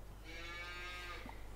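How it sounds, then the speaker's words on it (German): A single drawn-out cow moo from Farming Simulator 22, clear and fairly close, with a low steady hum underneath and no talking. "Stefan, Resi, darf ich dir da meine Lieblingskuh vorstellen hinter dir?"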